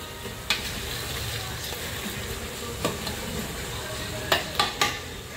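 Onion fries with pink salt in a pan, making a steady close sizzle with a few sharp spoon clinks against the pan.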